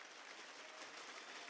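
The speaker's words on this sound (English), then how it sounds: "Please give them a big round of applause." Audience applause at an esports broadcast, a dense steady clatter of many hands clapping for the whole moment, with no voices over it.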